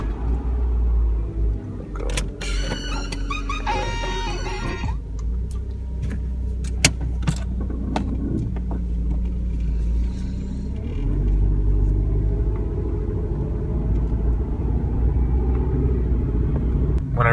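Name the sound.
1997 Ford Escort car engine starting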